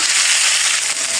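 Potatoes and green chilies frying in hot oil make a loud, steady, close hiss and sizzle with dense crackling that runs without a break.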